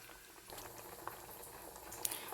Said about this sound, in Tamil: நீங்கள் பாருங்கள் அப்படியே கொதி வருது பார்த்திங்களா, அவ்வளோதான் போதும்.